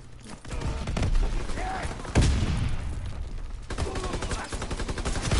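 Rapid bursts of video game gunfire crackle through the clip in quick volleys, with a heavy thump near the middle and steady shooting continuing over background game noise.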